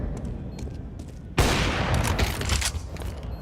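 AK-47 fire in a Counter-Strike match at a pro tournament, a sudden loud burst of rapid shots partway through that carries on as sustained gunfire, after quieter game ambience.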